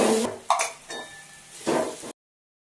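Peas and onions being mixed in a pan, with a few scraping, clinking stirs against the metal and a soft sizzle underneath, close and fairly loud, ending abruptly in silence.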